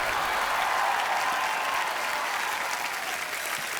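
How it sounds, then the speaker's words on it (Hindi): A studio audience on The Kapil Sharma Show bursts into dense, even applause welcoming Punjabi superstar Diljit Dosanjh, a continuous roar of clapping throughout. "आप सबकी जोरदार तालियों के बीच प्लीज वेलकम पंजाब की शान सुपरस्टार दिलजीत दोसांझ"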